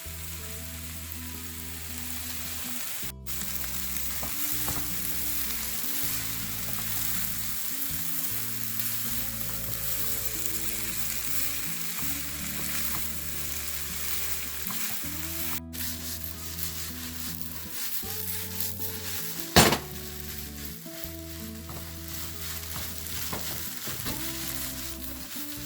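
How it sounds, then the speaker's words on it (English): Hakka noodles with egg are stir-fried in a pan, giving a steady sizzle with the scrape and clatter of repeated stirring against the pan throughout. No one speaks. "in the last, we are going to add the cooked Hakka noodles"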